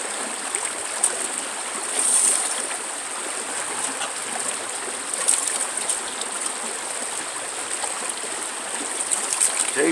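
Water streams steadily through a gold sluice box outdoors, a continuous hissing trickle with a few small splashes and no voices.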